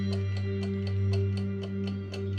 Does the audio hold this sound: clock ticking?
yes